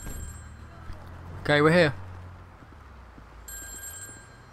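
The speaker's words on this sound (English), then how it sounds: "Oh, it's the phone we've got to answer." A mobile phone ringtone in the video game Grand Theft Auto V chirps in short bursts over game ambience and engine hum, following a brief spoken line.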